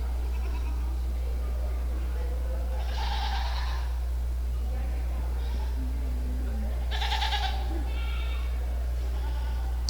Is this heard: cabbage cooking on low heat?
no